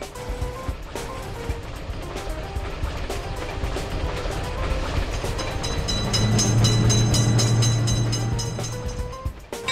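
In a railroad crossing game, a train rumbles past the level crossing, a loud rolling clatter that builds and holds, with a steady horn-like tone partway through.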